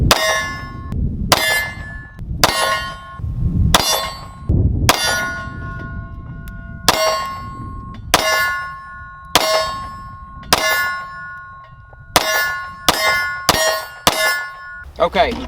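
Pistol shots from a handgun fitted with a Sig Sauer Romeo Zero sight ring off a steel target, about a dozen sharp clanging pings at an uneven, quickening pace, each sustaining a brief metallic ring.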